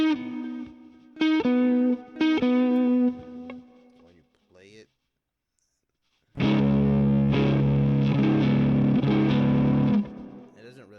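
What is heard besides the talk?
electric guitar riff with distortion and chorus effects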